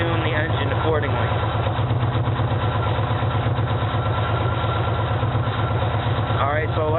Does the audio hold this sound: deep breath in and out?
no